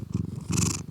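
Milo the cat purrs close up, a low rhythmic rumble with a brief breathy swell in the middle of a short stretch.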